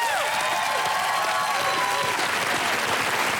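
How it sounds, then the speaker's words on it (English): On a 2012 Australian television panel show, a studio audience keeps up thick, continuous applause. Faint gliding musical tones and murmuring voices can be heard beneath the clapping. "keep the applause going for my mate Dicko"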